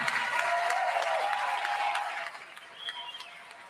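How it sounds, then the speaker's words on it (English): An audience gives a round of applause at a public gathering, dense clapping and crowd noise that swells early then thins out and fades toward the end. "Give Santita a great round of applause."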